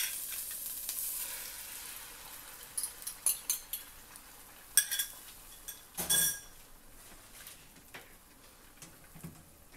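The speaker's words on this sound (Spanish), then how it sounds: "Y ahora sí vamos a agregar el huevo." Eggs seasoned with salt and pepper sizzle steadily in a hot pan while onion cooks for chilaquiles rojos, with scattered clinks of a utensil against the pan and a louder stirring scrape midway.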